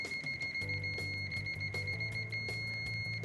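An Aneng M10 multimeter beeps through a continuity test, a steady high electronic tone with short repeated interruptions as the probes touch each contact in turn, close and clear.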